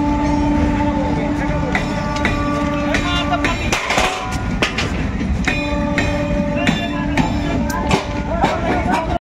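A train moves slowly past a station near Azimganj toward Murshidabad, with a loud steady rumble, sustained horn-like tones and a few clanks and squeals, joined by faint voices in the background.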